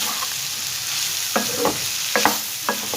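Mixed vegetable masala fries in a karahi with a steady, close sizzle, broken by several short bursts of stirring and scraping from a spoon against the pan.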